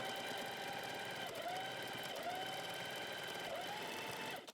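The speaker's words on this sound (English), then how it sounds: "we stitch that down along the length of the seam" A sewing machine runs steadily while stitching a welt seam along its full length, a continuous close whirring hum with no talk, cutting off abruptly at the end.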